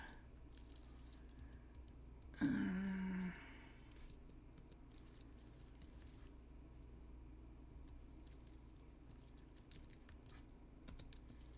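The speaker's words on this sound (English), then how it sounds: "I'm not that fast of a typer" Fingers type on a computer keyboard in a quiet room, making faint scattered key clicks at an uneven pace, with a short tonal blip near the start.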